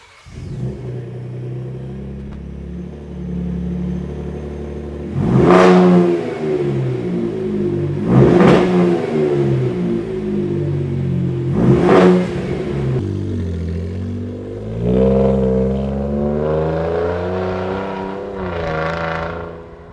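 A Ford Raptor truck engine with an AWE performance mid-pipe exhaust idles with a deep rumble, then revs sharply three times, each rise falling back to idle, followed by longer throaty revs.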